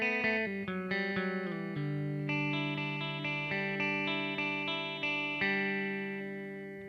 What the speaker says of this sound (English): So you can hear it's a clean guitar tone.